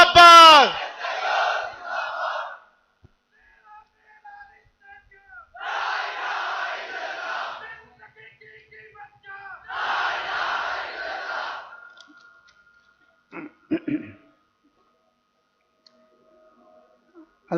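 Large crowd at an SIO All India Conference shouting religious and political slogans in unison, three loud bursts of massed voices each lasting about two seconds, separated by pauses, with a lone voice leading before each.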